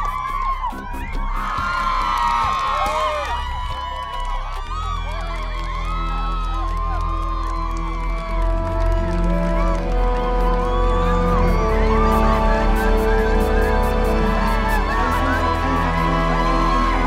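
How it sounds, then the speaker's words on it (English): A large crowd roars and cheers wildly at a gathering, a dense, continuous wall of loud voices and whoops that swells toward the end, with music-like tones mixed in. "The crowd is going nuts."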